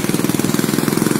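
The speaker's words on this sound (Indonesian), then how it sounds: "Mesinnya menyala ya." A fishing boat's engine that had recently broken down runs in a steady, loud, close pulsing putter with an even rapid beat throughout and no voices.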